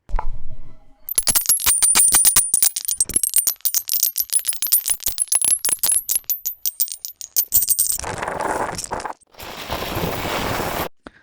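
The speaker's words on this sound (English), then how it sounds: "We could clearly hear the coins falling" AI-generated coins falling in a long, dense cascade of bright metallic clinks and jingles, loud and close, thinning out near the end into a burst of hissy noise.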